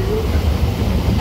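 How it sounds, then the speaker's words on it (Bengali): A moving passenger train rumbles steadily and loudly at close range, with low continuous rail noise filling the interior and people talking faintly over it. "সবাই ট্রেনে উঠে গেছে, এখন ওরা ট্রেনে করে যাচ্ছি।"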